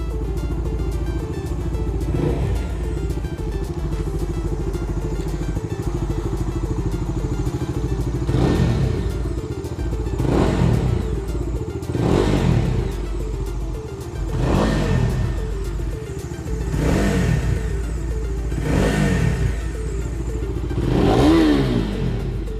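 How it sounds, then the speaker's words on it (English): A 2020 Bajaj Dominar 250 motorcycle engine idles with a steady chugging, then revs up sharply several times in a row, each rev rising and falling back, loud and close. "Now that we are on the bike, let's start it up and see what it can do."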